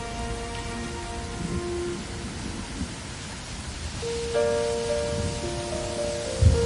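Steady rain falling on a surface during the monsoon season in the Andaman Islands, a soft continuous patter with no voices, joined near the end by a faint tonal hum.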